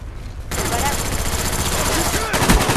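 Sustained burst of M2 machine gun fire in a first-person shooter video game, loud, close and rapid, running continuously for a little over two seconds after a brief quiet start.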